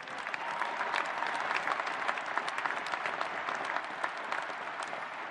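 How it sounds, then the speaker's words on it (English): Steady applause from a large audience at the 2019 United States Air Force Academy graduation, a dense wash of clapping heard from a distance that holds at an even level throughout. "We applaud and salute you all."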